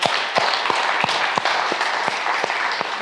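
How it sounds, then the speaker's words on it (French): A small audience claps at a launch event in Paris, giving brief, moderately loud applause with distinct individual claps spaced through the room. "je vous demande d'applaudir pour le sponsor officiel qui est Cofina France"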